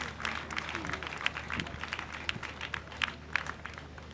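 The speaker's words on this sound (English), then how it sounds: "Please, let's give them a huge round of applause." Applause from an audience at an outdoor launch of a reforestation initiative, honouring ministry and Forestry Commission staff: steady mid-level clapping from a crowd throughout, with a few sharper claps standing out.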